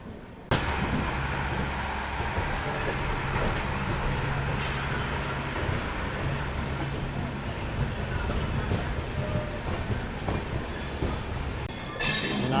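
Train rolling into Nagercoil Junction, a steady rumble of wheels and carriages with low mechanical drone throughout and a brief brighter squeal near the end.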